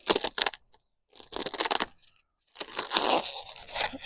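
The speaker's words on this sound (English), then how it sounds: "And then I'm going to cut the bag open," A bag of garden soil is cut open in three short bursts of crinkly plastic scraping and tearing, close up, separated by brief silences.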